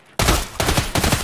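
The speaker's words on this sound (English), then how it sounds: "Is that a scab shooting at me?" Gunfire from a scav in Escape From Tarkov comes in three loud, sustained bursts of rapid shots, each cutting in sharply with brief lulls between, with no talk.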